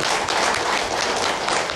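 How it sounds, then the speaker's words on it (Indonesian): Dense, steady applause from an audience greeting DPRD leaders at a hearing in West Bandung, sustained clapping filling the room without a break and no voices standing out above it. "Tepuk tangan untuk mereka semua."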